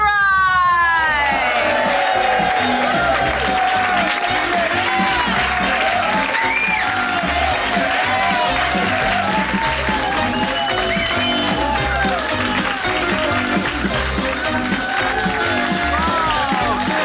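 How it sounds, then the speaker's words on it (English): A large studio audience applauds and cheers for a show host, dense continuous clapping with whoops and shouts filling the room at a steady loud level throughout. "Just give yourselves a nice round of applause."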